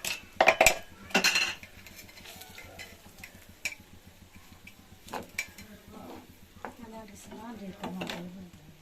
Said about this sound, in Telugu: ఇప్పుడు వేసేసి బాగా అంతా కలబెట్టుకోవాలండి